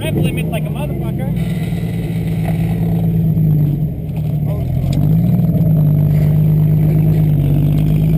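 A car with a failed transmission revving hard near its rev limit, a loud sustained engine drone that dips briefly then climbs again, with people talking over it.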